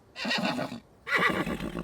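A horse neighs twice in close succession, each whinny loud, near and shrill, with a short pause between the two calls and no talking.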